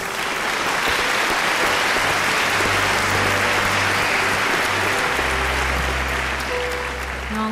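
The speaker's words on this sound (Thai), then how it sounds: "ขอเสียงปรบมือดังๆให้เขาอีกครั้งครับ" A studio audience at a televised children's talent show applauds loudly and continuously, a thick, even roar of many hands clapping close by that sustains for several seconds without letting up.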